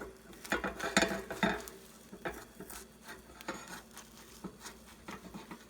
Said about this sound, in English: Just take a heat-proof rubber spatula and just go around the edges.